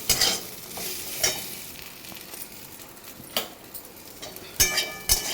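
Breakfast food fries in a covered pan with a steady hiss and sizzle, broken by a few sharp clinks of a utensil against the pan.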